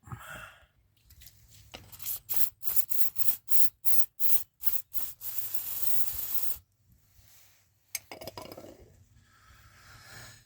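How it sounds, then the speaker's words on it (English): Short bursts of CRC penetrating oil aerosol spray hiss in quick succession on a Toyota Hilux steering link, then one long continuous spray, followed by faint clinks and handling noises. "Give it a spray of penetrating oil"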